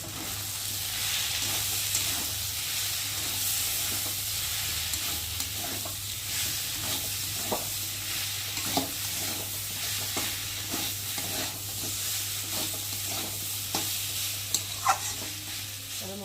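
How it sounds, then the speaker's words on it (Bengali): Spice paste of chili powder, turmeric, salt and tomato frying in a pan for fish chorchori, a steady sizzle with repeated stirring scrapes and clicks of a spoon against the pan, close and continuous throughout. "দিয়ে মশলাটা ভালো করে কষিয়ে নেব"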